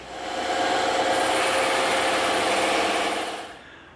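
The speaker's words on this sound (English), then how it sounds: "we're going to go over to the bandsaw and we're going to cut this out" A bandsaw cuts through a 36 millimeter piece of EVA foam with a loud, steady whirring drone that holds for about three seconds before winding down.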